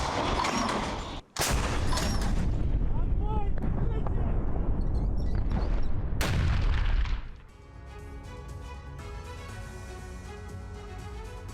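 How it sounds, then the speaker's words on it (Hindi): A Russian D-30 howitzer fires in two heavy, close booms a few seconds apart, each followed by a long rumbling roar, before quieter sound with a voice takes over. "रूस के D-30 होवित्जर ग्रुप ने अटैक किए"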